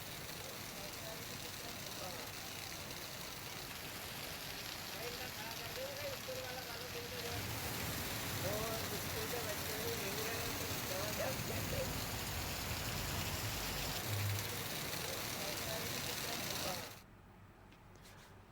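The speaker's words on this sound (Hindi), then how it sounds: "जहां करीब 1 घंटे तक झमाझम बारिश का दौर देखने को मिला।" Heavy rain pours steadily in Nasrullaganj, a dense broadband hiss with faint passing engine rumble, continuous until it cuts away sharply near the end.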